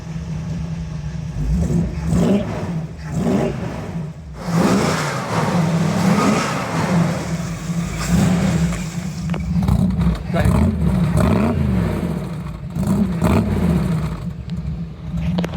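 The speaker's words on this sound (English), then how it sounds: "you want me to start her up? Let's give her a shot. See what she sounds like." A 1947 Dodge car engine runs and revs close by with a steady low idle and rising, falling throttle swells, while people talk intermittently over it.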